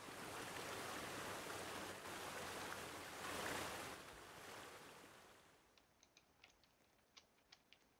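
Water waves in the Roblox game Quicksand wash in a loud, continuous surf-like roar for about five seconds, then fade and give way to a series of sharp, evenly spaced clicks.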